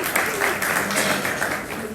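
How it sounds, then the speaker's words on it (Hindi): An audience at a spoken gathering claps together, a loud dense patter of hands lasting a couple of seconds, with voices audible beneath it. "ये ताली किस किस से बजाई?"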